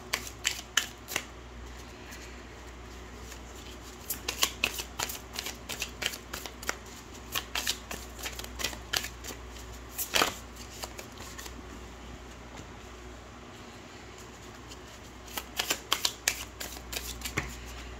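Gold tarot cards shuffled by hand in a quiet room, a steady run of soft papery riffles and flicks in close, uneven bursts, with no voice over them.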